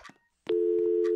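A telephone busy signal plays inside the Roblox game Roblox Hotel: a steady, loud repeating tone that starts abruptly after a brief bit of voice and runs to the end.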